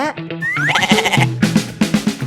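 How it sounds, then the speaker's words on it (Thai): Goats bleat in a series of wavering, nasal calls that overlap one another, loud and close, with one animal crying after another and no speech over them. "นนก็แพะ นี่ก็แพะ นั่นก็แพะ"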